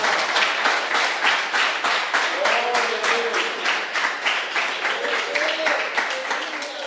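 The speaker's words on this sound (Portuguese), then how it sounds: "Você pode aplaudir o Senhor por isso, irmão?" A church congregation claps steadily and continuously during a sermon, a dense wash of many hands with faint voices and singing woven underneath.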